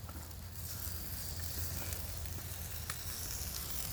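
Meat on an oiled grill sizzles with a steady, close hiss that holds evenly throughout, with no voices over it.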